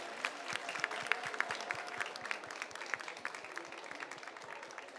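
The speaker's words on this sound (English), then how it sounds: "maybe one applause actually for all the panelists before we go to the next round." An audience at a panel discussion on feminist solutions for a just transition applauds its panelists, with steady, dense clapping that keeps up for the whole stretch at a moderate level.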